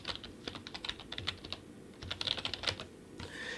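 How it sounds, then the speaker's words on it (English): Rapid typing on a computer keyboard, a steady run of crisp close key clicks with short pauses, heard alone without any talk. "let me type in my church's handle"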